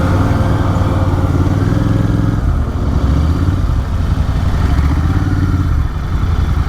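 Royal Enfield 650 twin motorcycles cruising on a highway in a group ride, a loud, steady engine drone with throbbing low exhaust pulses and wind rush running continuously throughout.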